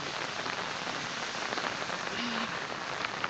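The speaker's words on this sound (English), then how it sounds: "Oh man, it is raining cats and dogs" Heavy rain pours down outdoors in a loud, steady, unbroken hiss, with scattered individual drops pattering through it.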